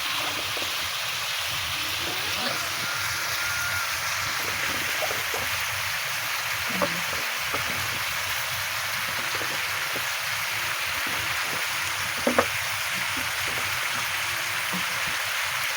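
Kalabasa squash fries in a pan, a continuous soft crackling sizzle like light rain, steady throughout with a few small clinks and no talk.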